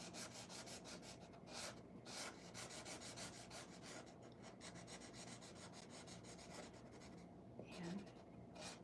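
A marker scratching steadily across paper as a comic strip is drawn, a close, quiet, continuous rubbing with brief pauses between strokes.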